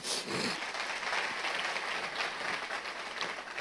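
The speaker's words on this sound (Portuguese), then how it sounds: "Então dê uma salva de palmas a Cristo." A church congregation claps in steady, dense applause, a continuous patter of many hands at moderate distance, fairly quiet and unbroken for the few seconds.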